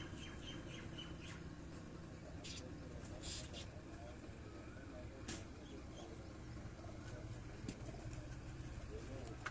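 Pigeons on a rooftop in Jamalpur Sayedan, Gujrat, give scattered squawks and short coos over a dense, constant outdoor hubbub. Voices murmur in the background throughout.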